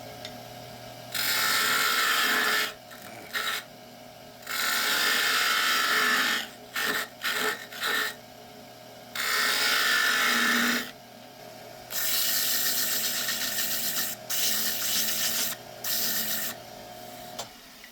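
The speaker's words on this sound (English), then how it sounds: "we're gonna just sand it now, and I'm going to leave a lip on it" A wooden salt shaker being sanded on a woodturning lathe, with bursts of loud rasping and whirring that start and stop repeatedly between short quiet gaps.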